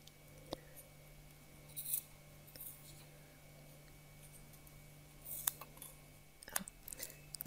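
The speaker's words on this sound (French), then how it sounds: "J'ai dû changer de ciseaux pour une paire qui coupe un peu mieux." Quiet snipping of scissors cutting yarn while knitting a Christmas hat, a few short isolated cuts spread out with pauses between them, against a faint steady hum.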